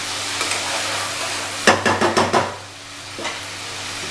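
Ginger paste is stirred into a cooking chili paste in a pan, with a steady sizzle and a quick burst of four or five scraping stirs in the middle, close and without talk.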